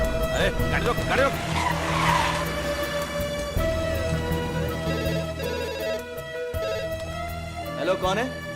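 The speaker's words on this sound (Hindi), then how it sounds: "अरे गाड़ी रोक, गाड़ी रोक।" A car brakes hard and its tires screech into a skid to a stop in a Hindi-dubbed movie scene, a loud squeal running under shouting voices and dramatic music with a sharp thud near the end.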